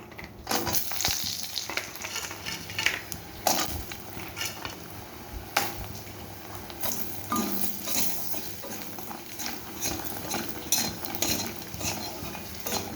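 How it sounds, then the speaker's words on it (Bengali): Lentil dumplings (bori) frying in a pan for a thin fish curry, with a steady sizzle and repeated scraping and clinking of a spatula stirring against the metal, close and continuous. "এবারে আমি বড়িটাকে ভেজে নেব"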